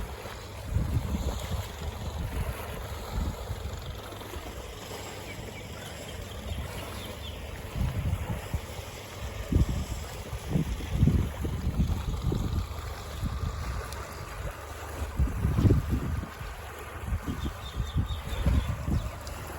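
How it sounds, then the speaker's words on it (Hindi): Fast-flowing water rushes past a bridge at Mangla Dam near Mirpur, a continuous churning roar with gusts of wind buffeting the microphone and no talking. "पानी की रफ्तार देखो कितनी तेज़ी नाल पानी आई रहा है"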